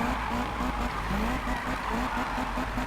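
A Ferrari F40LM slides sideways in the video game Need for Speed 2015, its tires squealing in repeated short chirps over a steady engine roar, sustained and fairly loud throughout.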